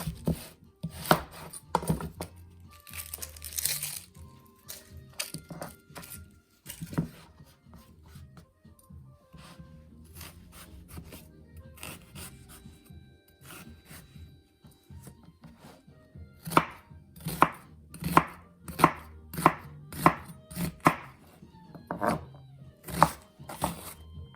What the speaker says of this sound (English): I like to get it all cut up beforehand. So I'm gonna use one big onion.